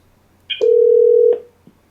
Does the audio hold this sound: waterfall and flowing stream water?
no